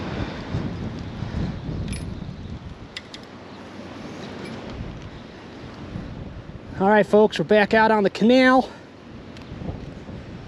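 Wind gusts buffet the microphone out on the Erie Canal on a hot day, a steady low rushing roar throughout, with someone speaking briefly over it near the end.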